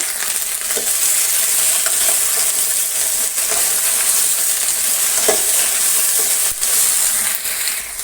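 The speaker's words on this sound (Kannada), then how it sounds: "ಈಗ ಅದಕ್ಕೆ ಅರ್ಧ ಕೆ ಜಿ ಬೆಂಡೆಕಾಯಿ ಕಟ್ ಮಾಡಿರೋದನ್ನು ಇದನ್ನು ಚೆನ್ನಾಗಿ ಫ್ರೈ ಮಾಡಬೇಕು" Chopped okra frying in a pan with a little oil, a steady loud sizzle running throughout with occasional stirring scrapes and clicks, no voices.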